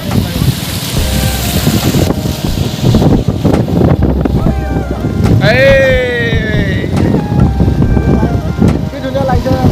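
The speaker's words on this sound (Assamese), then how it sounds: "বতাহটো বেছি লাগিছে" Strong wind blows across floodwater in Assam, a loud, continuous roar with heavy buffeting on the microphone and a brief whistling tone partway through.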